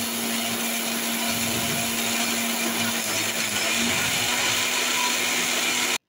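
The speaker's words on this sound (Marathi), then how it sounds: "आता इथे मी मिक्सरला पहिले सुरुवातीला भगरच फिरवून घेत आहे" Mixer grinder whirring steadily as it grinds barnyard millet (bhagar) into flour, a loud continuous motor drone with a faint rattle of grain in the jar, running alone throughout.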